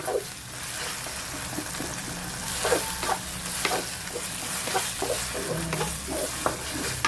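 Sardine spring rolls sizzle and crackle in hot oil during deep frying, with steady bubbling and scattered sharp pops close by, an even bed of frying noise throughout and no talk.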